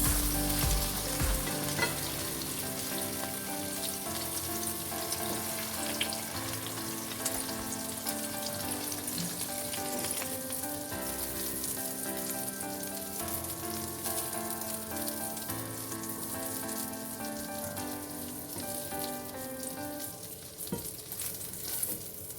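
An omelette with onion rings fries in a covered pan with a steady, close sizzle and crackle that runs unbroken throughout, while tonal background music plays alongside.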